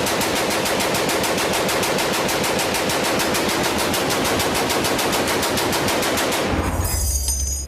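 Sustained fully automatic machine gun fire, a legal pre-1986 weapon, loud and close as a rapid, steady stream of shots lasting several seconds, with no talk, before the burst stops abruptly and only a brief ringing tail remains.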